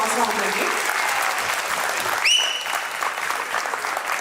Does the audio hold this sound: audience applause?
yes